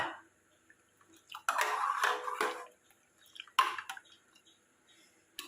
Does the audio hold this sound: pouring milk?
yes